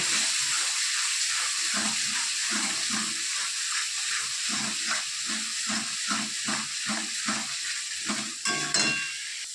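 Spice paste with salt sizzles steadily in hot oil for a catla fish curry, with a quick, even rhythm of stirring strokes scraping through the pan.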